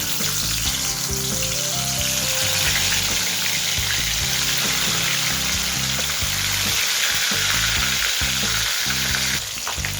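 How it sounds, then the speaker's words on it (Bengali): Parse fish fry in hot mustard oil in a pan, giving a loud, dense, continuous crackling sizzle up close for the whole stretch, with no talking. "তেল ভালো মতো গরম হয়ে গেলে আমি মাছ ছেড়ে দিচ্ছি।"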